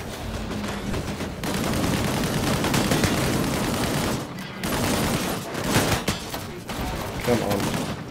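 Sustained gunfire in the video game Disintegration: dense, loud bursts of shots and explosive fusillades that run almost continuously with brief pauses.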